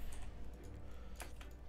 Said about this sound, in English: I game on a typewriter, yep.